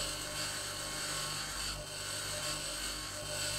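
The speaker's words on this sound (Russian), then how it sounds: "Берем в руки болгарку." Angle grinder in the video game Occupy Mars: a loud, continuous high-pitched whirring grind runs without a break, steady and close throughout.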